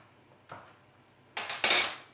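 Fork prongs tapping and scraping against a pan of almond-square pastry dough, a soft tap near half a second, then a cluster of three quick, sharper metallic pricks close by with no voices.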